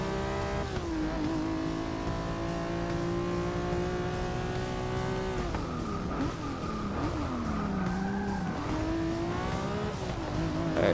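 Race car engines roar continuously through a lap in Forza Motorsport 6, revs climbing and dropping with gear shifts and corners, loud and steady throughout with faint tire noise.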